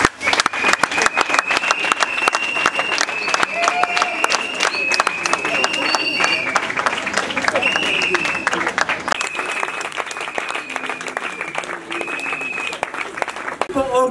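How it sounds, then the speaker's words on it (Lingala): An audience applauding at an Osé Badibanga foundation event, loud sustained rhythmic clapping from a standing crowd lasting many seconds, with voices and cheers over it. "Je vous prie de me mettre debout pour un applaudissement"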